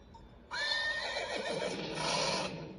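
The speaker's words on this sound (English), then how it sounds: "A horse." A horse whinnies loudly and alone, a shrill quavering neigh that trails off after about two seconds.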